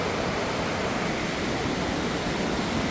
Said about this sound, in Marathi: फक्त इथं पाण्याचा आवाज